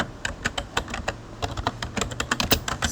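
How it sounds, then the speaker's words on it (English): Quick, uneven clatter of keys on a computer keyboard, close and fairly loud, with bursts of keystrokes and short pauses and no voices. "and then I will type a subject"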